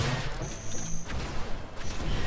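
Flak cannon fire in the game Unreal Tournament comes as a quick series of sharp bursts and crashes over about two seconds, amid other game noise.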